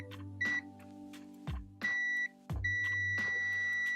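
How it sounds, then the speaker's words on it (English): A continuity tester touched against a cable gives several short electronic beeps in an uneven rhythm, close and fairly quiet over a low background hum. "Oh, I did get a beep."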